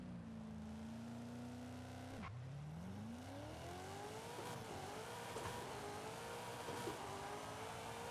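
A car revs and launches on a drag strip in Forza Horizon 5, the engine holding steady near 4,000 RPM before dropping and climbing through rising gears, loud and continuous.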